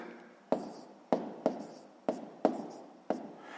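Pen writing numbers by hand on paper for a column multiplication, with six crisp taps and short scratchy strokes at an uneven pace, close and quiet, with no talk.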